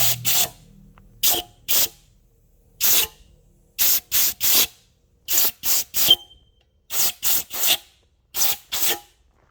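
Short bursts of compressed air hiss sharply while blowing out engine block bolt holes after thread chasing, about fifteen blasts in quick irregular clusters, close and loud with silence between them.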